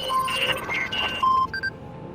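Inside a bag under a table in a VRChat roleplay warehouse, a little burner phone chirps a run of brief electronic beeps at uneven intervals, followed by one longer tone, nearby and distinct against quiet background noise.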